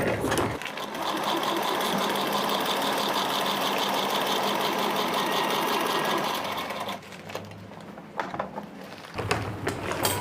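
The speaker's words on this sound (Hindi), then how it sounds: "अब जहाँ से हमने सिलाई छोड़ी थी उसको वापस से ज्वाइन करेंगे" A sewing machine runs steadily, stitching a bag made from a reused flour sack, with a continuous fast whirring buzz for about seven seconds before it stops and a few faint handling knocks follow.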